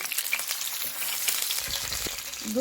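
Beef nargisi kofte frying in hot oil until browned, with a steady, close sizzle and crackle running throughout, occasionally stirred, with no voices.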